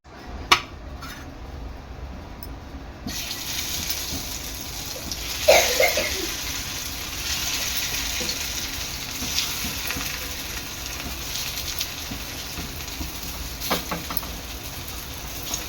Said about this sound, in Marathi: आता तव्यामध्ये तेल गरम झालेलं आहे आता मी ह्या शॅलो फ्राय करून घेते